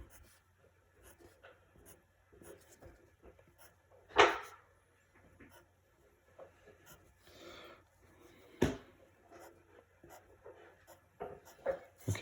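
A rough graph is sketched by hand with a pen or pencil on paper, soft close scratching strokes in short bursts with a few sharper taps and louder scrapes, no voice.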